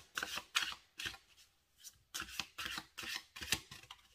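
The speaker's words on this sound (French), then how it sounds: "On va tirer une dernière carte." Tarot cards shuffled and drawn, producing a quick series of papery riffles and flicks in short bursts, close and fairly soft, with no voices.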